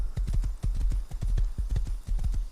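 Horse hooves clip-clopping in a video game, a quick steady rhythm of hoofbeats close and loud, continuing without pause throughout.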